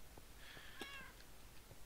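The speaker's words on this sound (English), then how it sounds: "Man, cats are noisy." A cat in the Minecraft video game, being tamed in survival mode, lets out a single short meow, fairly faint and close, over a low steady background hiss.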